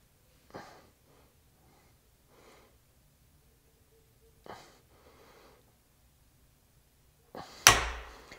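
Torque wrench clicking as a Leatherman ratchet driver is stress-tested at 220 inch-pounds, a few short quiet clicks and creaks followed by a louder sharp snap near the end, in a quiet room.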